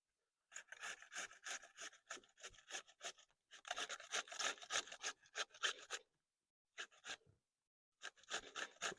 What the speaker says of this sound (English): So what I'm going to do is I'm going to grate it coarsely.